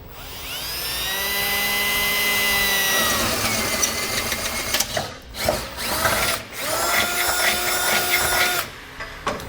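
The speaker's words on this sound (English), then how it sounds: "we'll get our hole drilled out." Power drill boring a hole into the frame of a 2018 Honda Accord for a Curt trailer hitch, with a loud steady whine for about three seconds, then choppy bursts and pauses as the bit bites into the metal.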